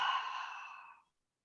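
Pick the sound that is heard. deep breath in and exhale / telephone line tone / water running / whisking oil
deep breath in and exhale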